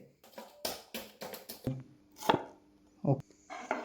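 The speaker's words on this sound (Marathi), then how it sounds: "कांदे कापायला घेतलेले" Onions being chopped with a knife on a board in a home kitchen, a series of quiet, irregular close-up knife taps and cuts.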